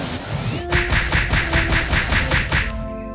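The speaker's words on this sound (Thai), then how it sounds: "เอาเป็นสกิลไฟบอลไฟโบก่อนละกันยิงเข้าไป" A fireball skill is cast and fired in a magic-focused online game, a rapid pulsing burst of repeated whooshing impacts rising after a short charge, steady and loud for about two seconds before cutting off.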